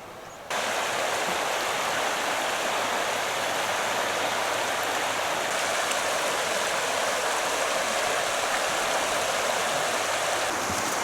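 The River Tees rushing beside the Pennine Way in Teesdale, North Pennines, a loud, constant broadband roar of flowing water starting abruptly and holding steady throughout, with no voices.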